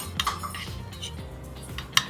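Cutlery scrapes and clinks against a dish while egg is stirred into pork sisig, a few close metallic taps over a soft background hum, ending in a sharp clink.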